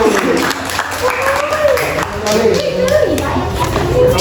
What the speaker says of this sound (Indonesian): tepuk tangan buat kelompok Mulyanto